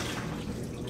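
Water being drawn out of a Samsung washer with a hand siphon pump, a steady close wash of flowing, splashing liquid with no pause.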